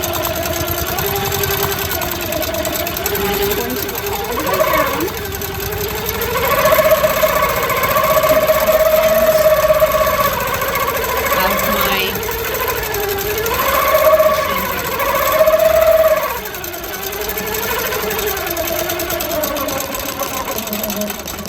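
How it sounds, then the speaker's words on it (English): A Quilt Maker Pro 18 longarm quilting machine on a handlebar-controlled frame stitches a straight basting line, making a steady, close mechanical whir and hum whose pitch rises and falls gently as it runs. "I'm going to press the start stop button on the handlebars, and I'm going to stitch my plumb line."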